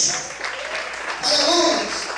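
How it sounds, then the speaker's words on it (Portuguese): Church congregation clapping in response to a pastor, a burst of applause rising partway through and mixed with voices talking and calling out over it. "Você pode aplaudir o Senhor por isso."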